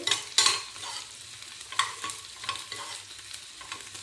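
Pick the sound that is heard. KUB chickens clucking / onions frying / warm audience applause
onions frying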